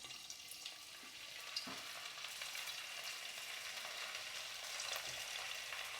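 Minced-meat kofta dahi bara frying in oil over low heat, a steady soft sizzle and gentle crackle running throughout at moderate level, with no voices.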